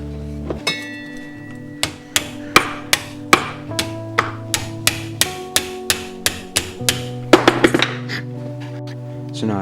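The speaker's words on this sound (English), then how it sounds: "I need to nail them right here so that I can take the string and put it through them" Hammer striking bent nail loops into a small wooden crossbow, roughly fifteen sharp, evenly paced taps at close range, ending in a brief flurry of quicker hits, with no talk.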